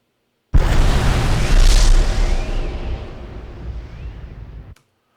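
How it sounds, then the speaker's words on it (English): A big patrol mech robot blows up in a video game with a loud, long explosion: a heavy boom that rumbles on for about four seconds, then cuts off. "Patrol mech destroyed explosion."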